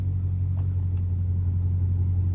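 A deep, steady Dodge Challenger Hellcat V8 idle rumbles continuously, low and loud with a slight lope, with no voices over it.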